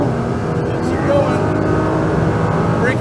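Nissan GT-R on a race track braking hard and downshifting, its engine note a loud, continuous roar with blips as gears drop, a voice coaching over it throughout.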